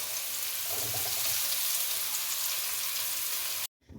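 Cauliflower frying in hot oil, giving off a dense, continuous crackling sizzle that stays steady and fairly loud, then cuts off abruptly at the very end.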